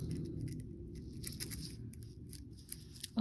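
Scissors snip through a gold chain while a bracelet is being made: a few sharp, close clicks and cuts over a quiet background, with no talking.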